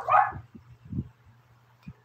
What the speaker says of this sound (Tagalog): ingin na naman yung aso ko